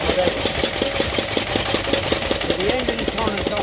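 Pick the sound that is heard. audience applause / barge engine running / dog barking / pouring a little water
barge engine running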